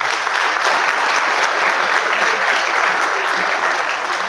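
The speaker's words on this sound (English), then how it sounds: "A big clap for him." A lecture-hall audience applauds for Advocate Anil Malhotra, guest speaker at a private international law event, a dense, steady wash of many hands clapping that holds at full strength throughout, with no voices standing out.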